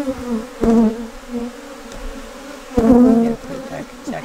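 Honeybees buzzing close around an open hive box with brood frames on an off-grid homestead, a loud droning hum that swells in two stronger bursts.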